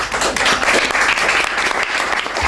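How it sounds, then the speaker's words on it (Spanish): Loud, close applause from an audience at a talk on energy reform and solar self-consumption, a thick continuous burst of clapping lasting a couple of seconds with no voices over it. "Un aplauso para el maestro."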